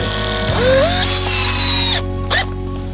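A power drill drives a screw into a gate hinge, its motor whining up in pitch then steadily, stopping briefly before a short final burst, close and loud.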